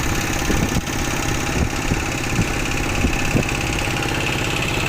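A steady, rumbling farm tractor engine idles close by, with a constant low drone and occasional faint knocks, no voices.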